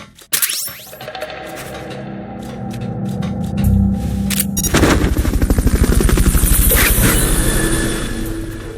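A helicopter in Metal Gear Solid Peace Walker HD Edition, its rotor thumping in a loud, steady rapid pulse through the second half, after sharp gunfire-like impacts and game sounds.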